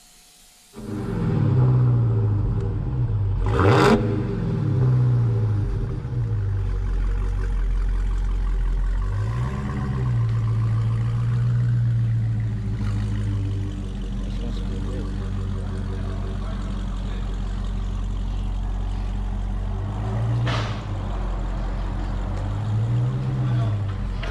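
A stock Dodge Charger SRT Hellcat engine starts and settles into a low, quiet idle, with a few brief revs rising and falling over a steady rumble.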